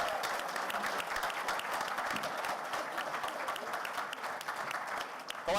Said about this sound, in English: All right, one last round of applause.